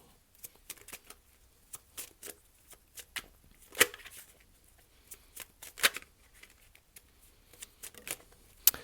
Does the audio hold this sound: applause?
no